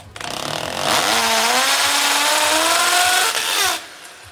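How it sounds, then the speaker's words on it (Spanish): An electric drill bores slowly into a wall to make a hole for a TV mount, started gently at the center so the bit doesn't wander, a loud steady whine that climbs gradually in pitch and then cuts off near the end, heard alone. "ponemos el taladro en el centro y empezamos a perforar despacito"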